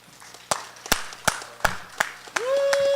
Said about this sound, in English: giving him a big round of applause